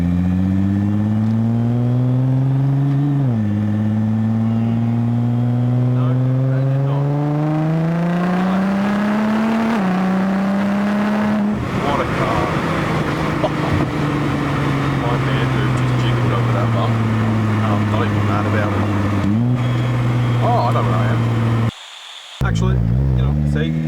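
A Nissan R35 GTR's exhaust drones loud and close while cruising, its tone climbing through each gear and dropping at the shifts in a smooth repeating rise-and-fall, with a brief cut near the end.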